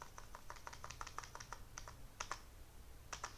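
Typing code on a computer keyboard: quick, irregular keystrokes close by, with short pauses between bursts and no voices.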